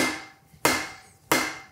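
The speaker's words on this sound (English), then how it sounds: "Hit it with another hammer" Two sharp metallic hammer strikes, one hammer hitting another to seat a crankshaft in a billet engine build, evenly spaced, loud and close, each ringing briefly before fading.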